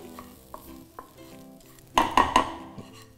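Garlic lightly roasted in a pan while a dry ingredient for betel-leaf rasam is prepared, with soft sizzling and a few spoon knocks, then a burst of stirring and scraping near the end, close and fairly quiet.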